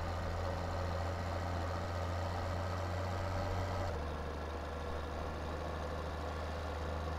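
A big tractor engine in Farming Simulator 17 runs at a steady, close idle-like drone, its low rumble shifting to a slightly different pitch about halfway through, with no talking.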